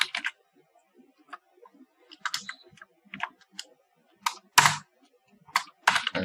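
Someone types a username on a computer keyboard, with scattered bursts of crisp, close key clicks separated by short pauses and a few louder taps near the end, no talk.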